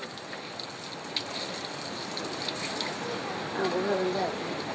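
Garden plants are watered by hand, giving a steady hissing spray and splash that runs throughout, with voices talking faintly near the end.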